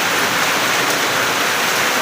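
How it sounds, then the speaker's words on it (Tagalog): Heavy, unbroken rain from Typhoon Odette pours down as a dense, loud hiss of water drumming on a surface, steady throughout with no pauses or voices. "walay undang ang ulan, grabe yung uwan"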